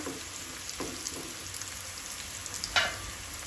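Slices of madi (Goan colocasia/yam) shallow-frying in a pan over a low flame, a soft continuous sizzle with a few stirring scrapes and a sharper clatter near the end, close up and without speech.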